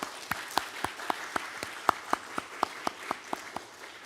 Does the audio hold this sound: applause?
yes